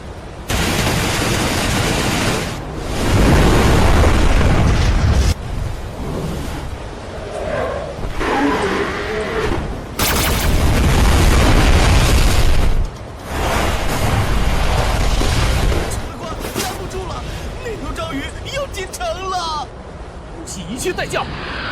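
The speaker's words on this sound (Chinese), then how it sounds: "给我把所有破甲弹都打出去！" Armor-piercing shells fire in an animated battle scene, a series of heavy broadband blasts and roaring bursts arriving in several long surges, with shouted voices between them.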